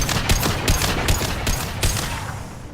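Rapid gunfire in the video game Mass Effect 2 crackles in a quick series of about five close, sharp bursts.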